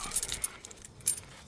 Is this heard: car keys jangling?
yes